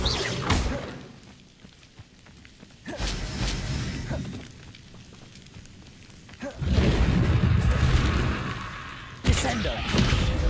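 Spell blasts and explosions from Confringo and Bombarda in Hogwarts Legacy, heard as a string of loud bursts and crashes with shattering debris, a heavy impact near the start, another around three seconds and a sustained roar late on.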